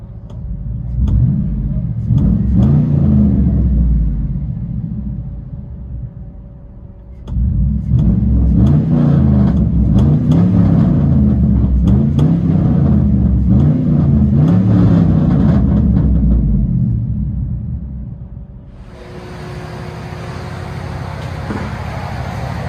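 Deep, throbbing V8 exhaust rumble from a squatted Chevy Silverado 5.3L with true dual straight pipes, heard from inside the cab as the engine revs and accelerates in long, loud surges.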